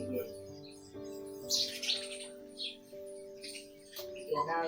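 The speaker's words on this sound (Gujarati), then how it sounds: "આ બાજુ જો સવારમાં ચકલાવનો ગણગણા સંભળાય છે" Sparrows chirp in short bursts at moderate distance in the morning, while a steady electronic tone or hum runs underneath the whole time.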